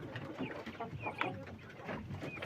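Clucking and crowing from chickens with a rooster among them, a busy flock heard fairly close with scattered calls overlapping.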